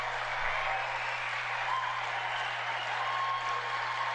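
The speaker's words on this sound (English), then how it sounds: "Yay, everybody's applauding." Continuous audience applause, a dense even wash of clapping at steady loudness from start to finish, with a low electrical hum underneath.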